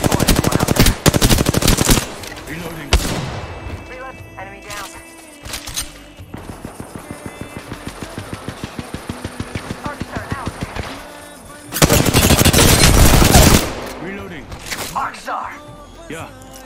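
Gunfire in the battle royale shooter Apex Legends: sharp single shots, then a long rapid burst of automatic fire, followed by a heavy roaring blast of fire, loud and close, with game voice chatter in between.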